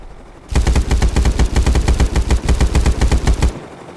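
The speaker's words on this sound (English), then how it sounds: "And then you got the machine gun." Machine gun fire in a video game erupts after a short pause and holds for about three seconds as a fast, evenly spaced stream of loud, close bursts, then stops abruptly.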